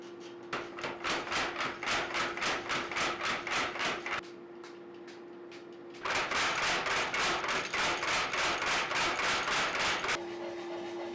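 A Little Giant power hammer forging a knife blade pounds in rapid, steady bursts, pauses briefly, then resumes its fast rhythmic thumping over a constant machine hum.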